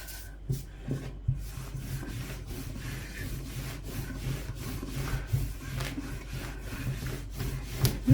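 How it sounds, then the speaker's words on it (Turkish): Phyllo dough dusted with a starch and flour mix is worked with a rolling pin on a board, giving soft, steady rubbing and scraping strokes with occasional light knocks. The sound is close and moderately quiet, and no one talks. "Önce merdane yardımıyla şöyle nişastalı unlu karışımımızı altına üstüne yufkamızı sürüyoruz."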